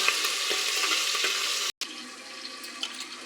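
Ingredients frying in hot oil and being stirred, a loud dense crackling sizzle that runs continuously apart from one brief dropout, close up with no voices.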